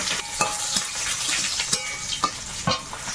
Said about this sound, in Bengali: তেলে একটু পাঁচ ফোড়ন একটু রসুন কুচি আর দেবো শুকনো লঙ্কা